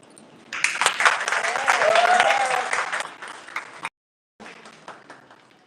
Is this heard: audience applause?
yes